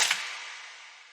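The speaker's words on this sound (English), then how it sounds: "I added this like gunshot sound that he has in a lot of his beats" Gunshot sound effect in a drill beat: a single sharp, loud crack followed by a bright, hissing tail that fades away over about a second, heard alone.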